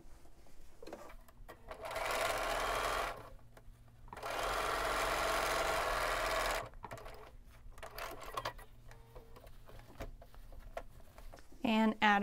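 A sewing machine stitches Dresden quilt blades together in two sustained runs of rapid whirring, separated by pauses and quiet handling, with a voice speaking near the end.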